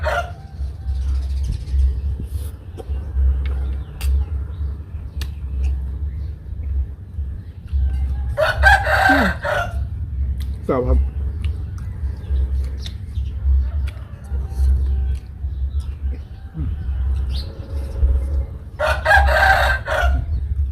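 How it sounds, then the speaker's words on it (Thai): A rooster crows twice, about ten seconds apart, from a moderate distance over a low steady outdoor hum, with faint clucks between the calls. "เริ่มขันแล้วครับ พี่น้องครับ เริ่มบายแล้ว"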